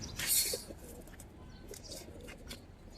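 Caged pigeons, silver-coloured and army pigeons, give soft low cooing with a brief chirpy burst at the start, close by amid faint background noise.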